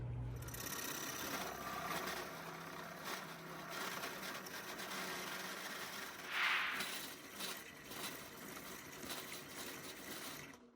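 A drill fitted with a large bit bores a hole through a piece of wood, a continuous whirring drone close by that surges briefly partway through and then winds down at the end, with no voices.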